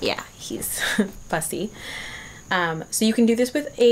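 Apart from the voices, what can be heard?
No everyday noises stand out.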